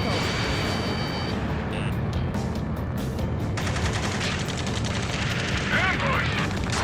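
Heavy gunfire in the video game Ace Combat 7 rings out from a far shore in an ambush. It comes as a dense, continuous barrage of rapid shots and booms that stays loud throughout, with voices talking over it.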